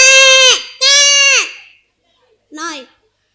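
At an inter-school competition, a voice mimics a goat bleating with two long, loud, wavering bleats close to the microphone, followed after a pause by a shorter, softer bleat.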